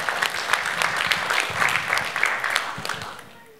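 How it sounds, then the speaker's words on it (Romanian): An audience at a music show applauds for the majorettes, a dense burst of clapping that fades out at the end, with faint voices underneath. "Un ropo de aplauze și pentru focoasele majorete"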